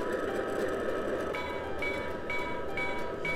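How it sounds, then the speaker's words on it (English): Circus train loaded with circus animals rolling through a full-scale railroad town, a continuous close rumble of wheels and cars with faint rhythmic clicks on the rails. "this is a circus train because it's got all these circus animals on it."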